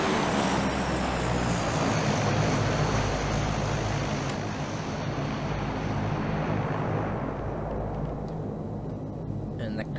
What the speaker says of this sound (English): Oh, there's a fucking helicopter inbound.